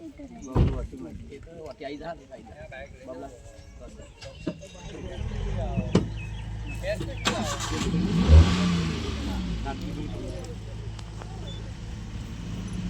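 A motorbike engine starts and revs, its low rumble swelling to a loud peak before settling into a steady run, with people talking over it.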